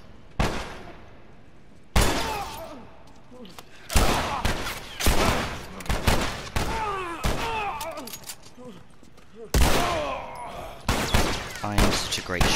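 Gunfire in The Last of Us Remastered: a string of loud, sharp gunshots spaced a second or two apart, each with a booming echo tail, mixed with game sounds and a person talking.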